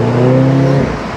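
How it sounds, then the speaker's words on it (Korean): A Mini Cooper S convertible, top down and in green mode, roars under hard acceleration: a loud, close exhaust note that holds steady for under a second, then drops away. "지금 팍 터지면서 배기음이 좀 컸습니다"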